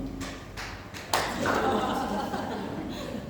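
A church congregation at a Sunday service bursts into applause: a few scattered claps, then a sudden swell of dense clapping that holds steady for a couple of seconds.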